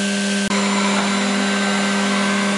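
A CNC milling machine cutting at high spindle speed produces a loud, continuous, steady whine with strong sustained tonal hum, briefly cutting out near the start and then resuming, chattering under load with no voices.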